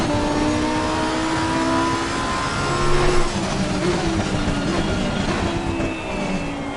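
Lamborghini Supertrofeo race car engine pulling under throttle in first gear on a wet track, a steady loud mid-pitched drone with rising harmonic tones and a brief surge near the middle, no talking.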